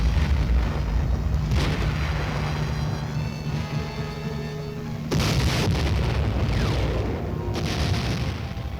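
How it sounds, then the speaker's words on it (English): Armed Choctaw helicopters used as flying gun platforms fire a barrage of rockets, heard as a steady roar with bursts of blasts near the start and again midway through, loud and continuous without pauses. "Armed Choctaws flying gun platforms come in to complete the softening up process with a barrage of rockets."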